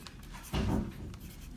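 A pen writes a short answer by hand on paper, one brief scratchy stroke burst standing out clearly against a quiet room.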